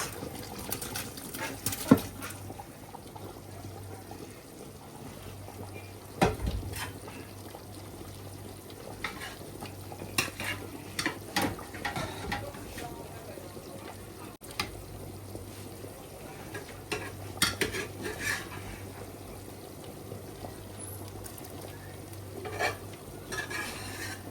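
Meat is stirred into a pot of Banga stew with scattered scraping and knocking strokes over a quiet bubbling simmer and a low steady hum. No voice is heard.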